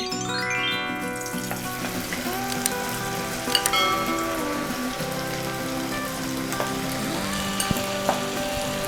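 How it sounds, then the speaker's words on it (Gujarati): Crispy potato lachha pakoras deep-fry in hot oil over a high gas flame, giving a steady, dense sizzle and crackle with scattered pops, close and continuous, with no one talking. "ગેસની હાઈ ફ્લેમ ઉપર આપણે પકોડા ઉતારી લેશું"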